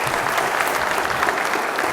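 Audience applause welcoming a speaker at a stamp show ceremony for the U.S. World Stamp Show-NY 2016: steady, dense clapping from a crowd filling the room, sustained throughout.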